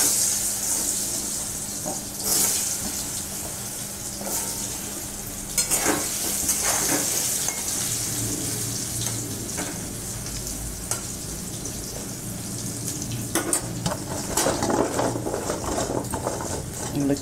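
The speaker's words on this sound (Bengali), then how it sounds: "আলুগুলো আমি ভেজে নেব।" Spiced potatoes fry in oil in a wok, sizzling continuously while a utensil stirs and scrapes at intervals, with water splashing briefly and a voice heard faintly at times.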